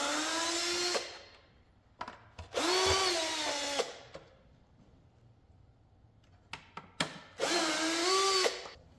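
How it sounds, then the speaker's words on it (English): Power drill backing screws out of a Jeep Wrangler taillight extension: three loud, close whirring runs with rising and falling pitch, separated by quiet gaps with a few small clicks and taps. "And now we're going to start pulling screws."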